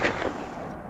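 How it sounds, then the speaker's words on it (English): A single heavy gunshot-like blast at the start, followed by a short rumbling echo through a trench that fades. "gunfire erupted, the sound echoing through the trench like thunder"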